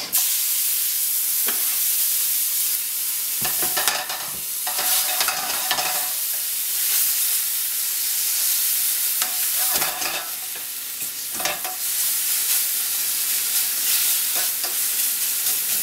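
Red peppers go into a pan for chicken Marsala and fry with a strong, continuous sizzle, interrupted by bursts of stirring and clattering at intervals, close and loud, with no one talking.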